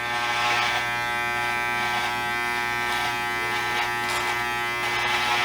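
Electric hair clipper cutting hair on a mannequin head, a continuous loud motor buzz with steady harmonic hum and brief rises in rasping noise as the blades pass through the hair.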